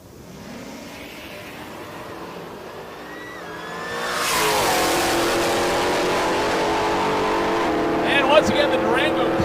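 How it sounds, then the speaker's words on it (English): A 2021 Dodge Durango makes a drag racing pass at an NMCA muscle car event: the engine note climbs through rising gears, then a loud roaring surge as the vehicle launches and screams toward the finish, with crowd and announcer noise underneath. "the Durango clawing its way towards the finish line"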